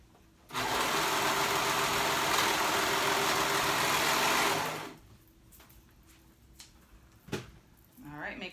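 A sewing machine runs steadily for about four seconds, stitching a dress skirt, then stops, leaving quiet handling noises.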